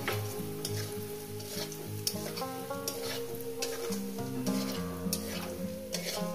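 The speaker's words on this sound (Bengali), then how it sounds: "তেলটা গরম হয়ে গেছে, বড়িটা আমি দিয়ে দেবো।" Dumplings sizzle and crackle steadily in hot oil, with a continuous frying hiss and faint clicks of stirring, no voices.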